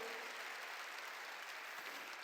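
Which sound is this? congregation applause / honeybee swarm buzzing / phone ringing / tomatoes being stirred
congregation applause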